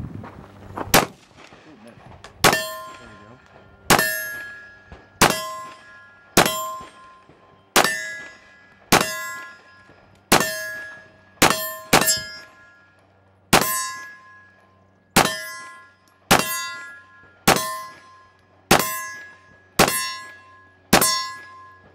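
Glock 17 early gen 3 two-pin pistol fitted with an aftermarket disconnector and other mods, fired outdoors in a steady series of about fifteen sharp, loud shots, each ringing briefly with a metallic clang before the next.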